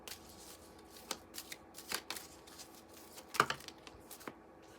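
Tarot cards are shuffled close by in a run of quick, crisp riffles and taps, with one louder snap partway through and a quiet room behind.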